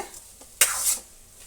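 Masala frying in oil in a pan for bottle gourd sambar: a short, close sizzling hiss bursts up after a faint stirring scrape, then fades within half a second, with no voices.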